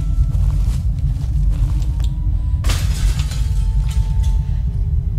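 Glass shatters in a single sharp crash within a video game, cutting through a steady low rumble of background game ambience.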